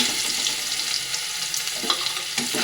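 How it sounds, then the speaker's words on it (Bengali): Chopped garlic and black cumin fry in plenty of oil, a dense, steady sizzle close by, with a few faint stirring scrapes and no talk. "এটা দিয়ে এবার একটু ভালো করে ভাজা ভাজা করে নেবো রসুনটা।"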